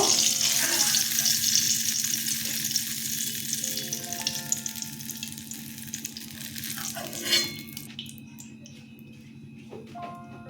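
Green chillies dropped into hot mustard oil left from frying brinjal: a bright hissing sizzle up close that gradually settles, with some faint clatter and watery sounds toward the end.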